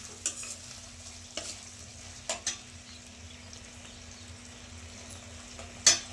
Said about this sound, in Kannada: ಒಂದೆರಡು ನಿಮಿಷ ಫ್ರೈ ಆಗಲಿ ಇದು ಬೇಯ್ತಾ ಇರಲಿ